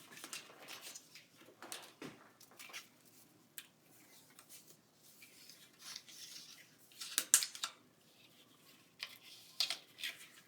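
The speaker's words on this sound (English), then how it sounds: "I'm going to tear this side off actually." A laser-cut paper piece is pulled and torn from a scrapbook sheet in a series of faint, sporadic rips and crinkles, with brief louder tearing bursts near the end.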